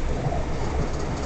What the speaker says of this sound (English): On the 2018 train to Northampton